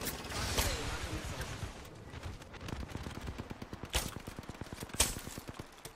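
Rapid bursts of automatic gunfire in the video game Mini PathFinder, with a fast stuttering rhythm, several sharp louder shots standing out, and speech mixed in.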